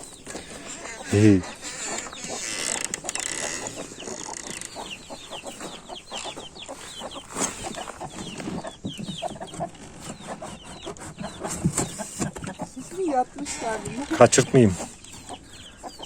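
Chickens and small-to-medium chicks newly brought to a village cluck and peep close by in a steady, busy chorus, with one louder squawk, while people talk over them now and then.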